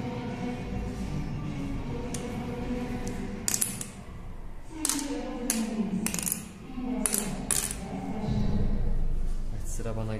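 Mangala stones drop into wooden board pits with a few sharp, close clicks and clacks, scattered irregularly under steady Turkish talk explaining the moves.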